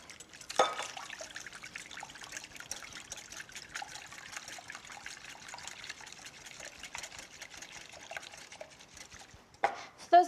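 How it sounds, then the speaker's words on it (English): Milk trickles into whisked eggs for an oaty pancake batter, a faint, thin pouring dribble in a quiet kitchen, bracketed by a couple of louder bowl clinks. "You're going to add in your milk."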